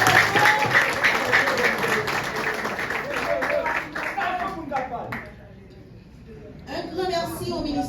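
An audience applauds at a health administrator's installation ceremony in Grand'Anse, a lively burst of clapping that thins and fades to near quiet before a brief pickup, with voices mixed in.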